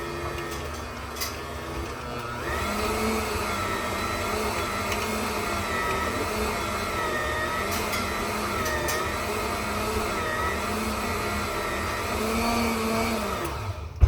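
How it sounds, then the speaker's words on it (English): A stand mixer runs steadily, kneading bread dough, with a continuous motor whir and a low churning drone that holds evenly for the whole stretch without talk. "we are going to just turn this on and let it mix down"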